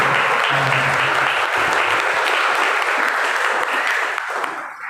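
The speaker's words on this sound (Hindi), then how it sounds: "क्यों ना हम उनका ताली के साथ स्वागत करते हैं" Loud, sustained welcoming applause from an evening church service congregation, dense clapping throughout that tapers slightly at the end.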